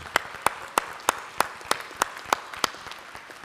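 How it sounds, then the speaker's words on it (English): Audience at a church annual conference clapping in a slow, steady rhythm, about ten evenly spaced sharp claps standing out clearly over a quiet room. "let's give them a round of applause from this report"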